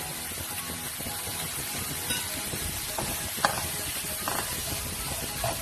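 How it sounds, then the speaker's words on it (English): Mushrooms cook on a slow flame in a pan, giving a steady, moderate sizzle and hiss throughout with a few faint clicks of movement, and no speech. "cook it on a slow flame so that the mushroom gets cooked easily and starts sweating"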